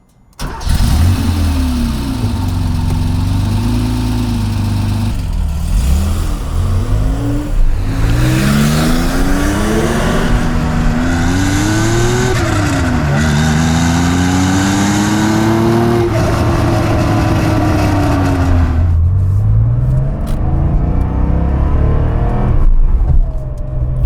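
A modified 1979 Porsche 911 pulls away and accelerates hard, its engine climbing through rising revs with several gear changes, loud and close, then easing off near the end.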